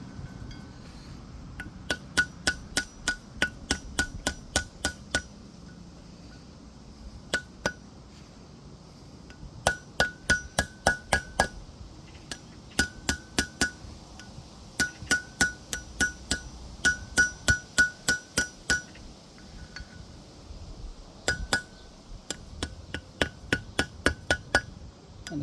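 Metal hammer striking a part into place, in bursts of rapid, ringing blows with short pauses between, close and loud over a quiet background; no talk.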